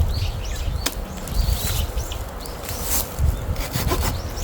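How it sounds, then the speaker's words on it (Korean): The short 13 cm hand saw from a Victorinox Venture Pro knife cuts through an ankle-thick tree branch outdoors with close, steady back-and-forth rasping strokes. Faint bird calls sound in the background. "이렇게 짧은 13cm 짜리도 이런 그 발목 정도의 굵기 나무는 굉장히 쉽고 빠르게 잘라낼 수 있어요"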